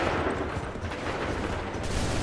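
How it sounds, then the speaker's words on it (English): Soldiers firing a volley in Assassin's Creed III, a dense, rumbling wall of overlapping musket shots that stays loud and sustained throughout, with no clear gaps. "Hold fire! Hold fire! Open fire!"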